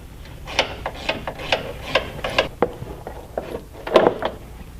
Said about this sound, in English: I'm going to go ahead and remove the bolt out of it prior to doing the rocker panel